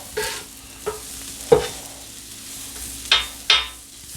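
Peppers and onions cooking in butter on a flat griddle, a faint low sizzle broken by five separate sharp scrapes and taps of a spatula on the metal surface.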